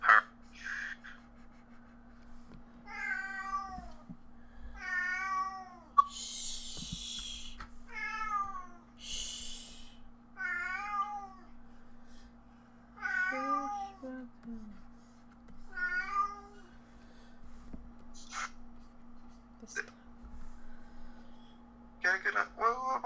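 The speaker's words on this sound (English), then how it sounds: "you hear this cat?" A cat meows repeatedly in a series of distinct, wavering cries spaced a few seconds apart, moderately loud over a low steady hum, with a few other brief sounds mixed in.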